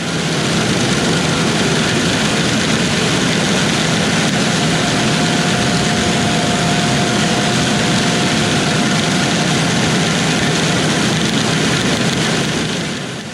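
A tractor engine idles in a loud, steady rumble that holds unchanged throughout, with a faint whine and no voices.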